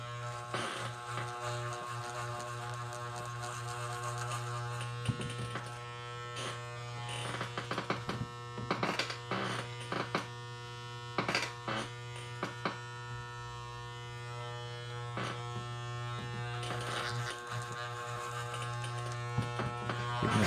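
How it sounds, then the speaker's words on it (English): Electric clippers buzz steadily while trimming and shaving the fur of a monster costume, a constant close hum broken by intermittent crackling bursts as the blades cut through the fur, with no speech. "trim it a little bit more. Just kind of shave it a little closer."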